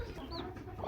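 A hen in a backyard coop where hens sit on eggs gives soft, brief clucks, faint against a steady background hiss, with no voices.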